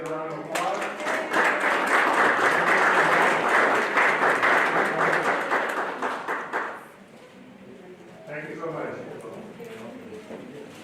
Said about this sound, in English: Let's give all our new employees a round of applause.